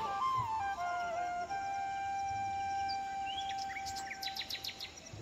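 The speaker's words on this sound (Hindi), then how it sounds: "चिड़िया उड़ा रहे हो।" Wild birds in the forested Morni Hills of Haryana give thin whistled notes and a burst of quick chirps, moderately distant, over a steady outdoor background hiss, with no talking.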